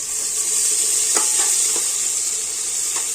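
Sliced onion fries in a pan for chicken biryani, a steady bright sizzle throughout with a few soft stirring scrapes in the middle and near the end.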